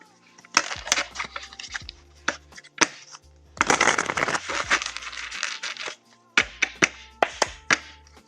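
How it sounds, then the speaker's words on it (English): A deck of tarot cards being shuffled by hand, close riffling bursts separated by sharp taps and pauses, with no talking. "Okay, one more shuffle."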